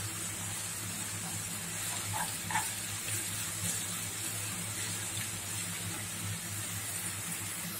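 Ginger-garlic paste sautéing in a pan gives off a steady, soft hiss and sizzle, continuous and fairly close, with no voices.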